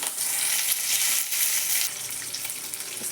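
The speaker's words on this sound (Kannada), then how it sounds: "ಎಣ್ಣೆ ಕಾದೈತಿ ಈಗ ಬೆಳ್ಳುಳ್ಳಿ ಜೀರಿಗೆ ಸಾಸಿವೆ ಚಟಪಟ ಅಂತದ" Garlic, cumin and mustard seeds sizzle and crackle steadily in hot oil, a loud, close, continuous frying hiss with no talking.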